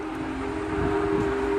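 A freight train hauled by diesel locomotives rolls past near milepost 326, a steady rumbling roar with a sustained tonal whine running through it, continuous and fairly loud, with no voices.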